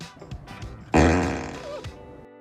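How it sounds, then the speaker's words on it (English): A short burst of music gives way to a loud, buzzy fart sound from a Tesla car horn set to play a fart, trailing off over about a second. "they gave their owners the ability to change their horns to any sound they wanted, including a fart."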